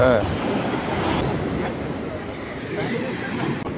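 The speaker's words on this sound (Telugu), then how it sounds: "అలలు అయితే భారీగా వస్తున్నాయి." Heavy ocean waves rolling in at Dadar beach in Mumbai, a loud continuous wash of surf mixed with strong wind buffeting the microphone.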